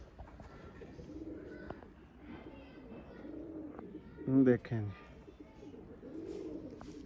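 Racing pigeons coo softly in bursts, a female among them, with one louder, nearer coo midway, while someone talks over the birds.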